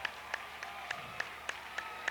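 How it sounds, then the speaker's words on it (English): A crowd at a 1993-94 high school boys basketball game between Cuba, Missouri, and Waynesville claps and cheers after a big blocked shot, with sharp, evenly spaced claps ringing over a steady crowd murmur. "The crowd comes to its feet."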